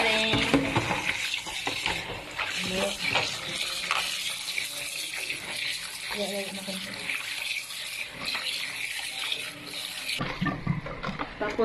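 Chicken gizzards being washed under a running kitchen tap, a steady close stream of water splashing into a sink with handling noises, and a person talking softly over it.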